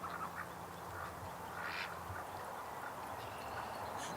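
Duck with a limp quacking outdoors, a few faint, short calls scattered over steady background noise, distant and low in level.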